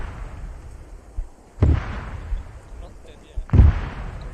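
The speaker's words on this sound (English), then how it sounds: "Mortars incoming on the northeast face." Two heavy mortar impacts boom in the ARMA 3 combat game, about two seconds apart, each a deep loud thud that rolls off into a rumbling tail.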